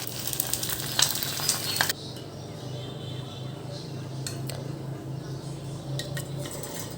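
Eggs frying in a pan at breakfast, with a loud burst of sizzling and utensil clinks at first, then a quieter steady crackle and a few scattered metallic taps.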